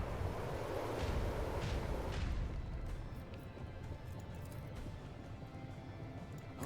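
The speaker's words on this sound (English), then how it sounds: "Macro cannons, open fire." Ship macro cannons fire in the space combat game Rogue Trader, a heavy rumbling salvo of booms for the first couple of seconds that then fades into a low, steady drone.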